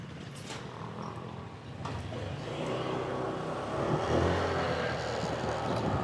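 Fast cars and motorcycles pass on a curving road, their engines swelling into a louder, rushing drone partway through and holding near and steady afterward, with no talking.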